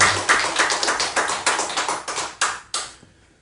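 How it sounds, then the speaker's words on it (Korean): Claps at a Won Buddhist service, arriving as a quick run of sharp, distinct hand strikes from a small group that slows and thins out, ending in quiet. "우리 이선지 교도님을 위해서 힘찬 박수 한번 부탁합니다"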